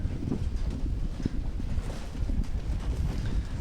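Gusty afternoon wind buffeting the microphone at an outdoor rugby match at Ayala Vermosa Sports Hub, a loud continuous low rumble with uneven surges and no clear voices.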